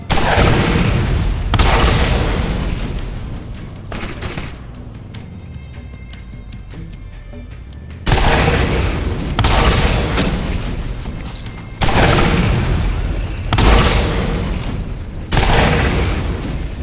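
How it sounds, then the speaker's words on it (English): A Tediore-made rocket launcher from Borderlands fires in loud, booming bursts, several heavy blasts with rumbling tails separated by short lulls. "Figures a rocket launcher made by Tediore"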